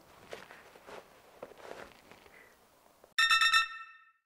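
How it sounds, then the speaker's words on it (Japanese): A telephone rings in a short bright electronic burst near the end of the call to a consumer hotline, after soft rustling and footstep-like movement. "早速電話してみるよ。"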